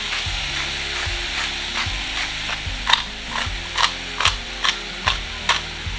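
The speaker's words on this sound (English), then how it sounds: "we'll just cook that for a few minutes until our beef is all brown and we don't see any red" Ground beef and onion sizzle steadily in a frying pan, with a spatula scraping and stirring in regular strokes, close and clear, with no talking.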